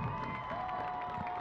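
A crowd at a 2022 varsity high school football game, Mingus versus Flagstaff, cheering steadily with a continuous roar at moderate distance and no clear individual voices.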